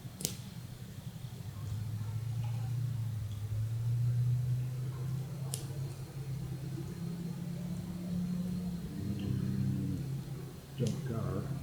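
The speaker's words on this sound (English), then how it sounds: "Noisy ass cars." A noisy old junk car passes at night near a rural bonfire, a low droning engine rumble that swells and fades over several seconds, fairly distant, with faint background sounds around it.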